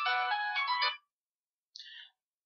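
A mobile phone ringtone rings in a quiet room, one loud melodic burst of about a second, then silence, then a shorter second burst.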